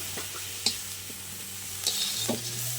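Tomato frying in a pan sizzles steadily while a spoon stirs it, with a few sharp scraping knocks against the metal standing out over the constant crackle.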